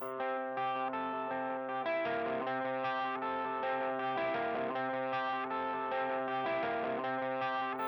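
A stitched-together, loopy prog metal guitar part from a cover of a song from Frozen 2, with distorted, effects-laden chords that repeat in a steady pulsing pattern, played alone and fairly quietly.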